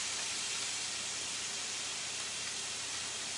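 Diced peppers and onions sizzle in a hot skillet as a steady, loud, bright hiss that holds unchanged throughout, close up and with no voices.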